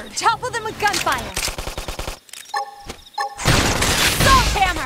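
Rapid bursts of gunfire in the Xenoblade Chronicles X combat, loud staccato shots rattling between stretches of busy battle noise and effects, with character voices shouting over the fight.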